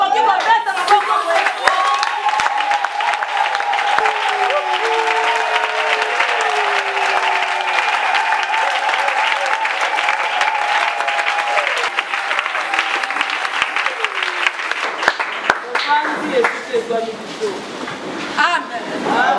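A church congregation applauds continuously, a dense sustained wash of clapping with crowd chatter and cheering mixed in, loud and steady before thinning slightly near the end.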